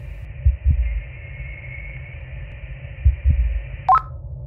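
Dull heartbeat thumps in pairs play over radio audio in the space video game Voyager-19, riding on a constant droning hum, with a short electronic beep near the end.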